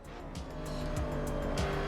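Tyres squeal through a slide in the Assetto Corsa racing game: a steady engine drone with repeated high screeching bursts, fairly loud and continuous, with no talk over it.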